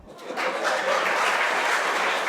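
Applause from an audience at a Tamil Diwali talk show debate, a dense sustained clapping that swells quickly and stays fairly loud for a couple of seconds.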